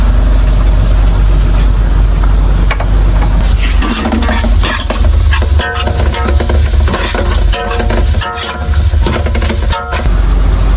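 Onion, tomato and dried fish curry sizzles loudly in a pan while a spoon stirs and scrapes through it in repeated strokes, close up.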